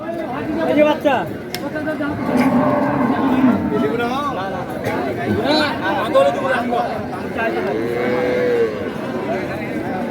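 Cows and a calf moo repeatedly at a village cattle market selling Sahiwal, Sindhi and local dairy cows, the drawn-out lowing rising over steady crowd chatter and nearby talking throughout.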